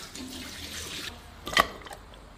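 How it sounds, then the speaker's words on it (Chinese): Tap water rinses a marinated fish head: a soft, thin stream runs for about a second, then one brief, louder splash follows and fades quietly. "那个鱼头腌好了，弄水冲一下"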